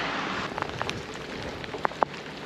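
Rain falls steadily during a cycling climb on the col de la Chaux, a soft continuous hiss with a few sharper drops tapping close by, no voices.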